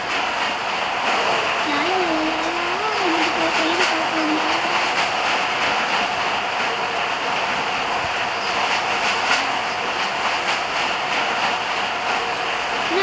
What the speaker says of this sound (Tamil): அந்த ட்ரெயின் பார்த்தீங்கன்னா இப்போ கிளம்புது கைஸ்.